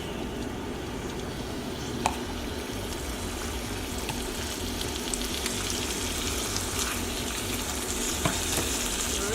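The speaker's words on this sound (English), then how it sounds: "Now I'm going to add the ribeye to the pan. On a high temp," A ribeye steak sears in a pan over high heat, giving off a dense, steady close-up sizzle and crackle with a couple of faint clicks.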